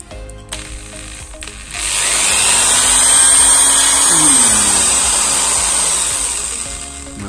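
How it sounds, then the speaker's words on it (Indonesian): A power drill fitted with a new keyless chuck bores into wood, a loud steady whine rising and holding for several seconds after a few brief clicks, close by and alone. "ngebor kayu."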